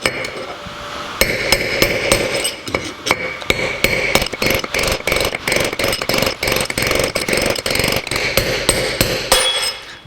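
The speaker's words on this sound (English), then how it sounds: "There's a little groove on top of the race that we can get a long punch on top of, and we just tap that out." Repeated metal-on-metal taps from a long punch driving a bearing race out of a 1949 Chevrolet spindle, a steady series of sharp, close strikes at a quick irregular rhythm lasting several seconds.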